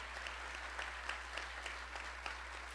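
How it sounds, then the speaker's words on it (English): An audience at a city state-of-the-city address applauds healthcare heroes, a fairly soft, sustained spread of clapping with scattered sharper individual claps standing out across the whole stretch. "Let's give them one more big round of applause"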